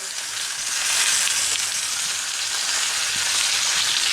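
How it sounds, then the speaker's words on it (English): Butter, rosemary and garlic sizzle in a cast iron or carbon steel skillet beside a steak, a steady close hiss of frying fat that holds even and loud throughout. "now it's the time to add the butter"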